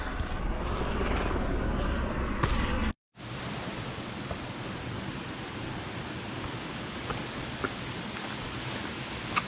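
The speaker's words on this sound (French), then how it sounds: "On a des hélicoptères qui passent, on les entend." Steady broadband rotor roar of helicopters passing over Takamaka, La Réunion, loud and continuous, with a brief cut near the start before it resumes unchanged.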